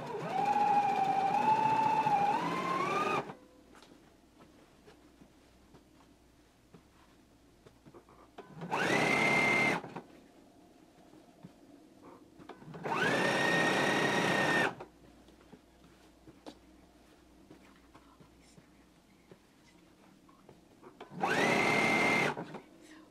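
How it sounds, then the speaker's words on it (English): A sewing machine stitches a pressed pant cuff close to its folded edge in four separate bursts, loud whirring runs of motor and needle with quiet pauses between them and no talking. "we can go ahead and stitch it close to this pressed edge"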